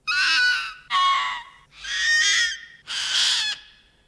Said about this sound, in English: When it's really screeching,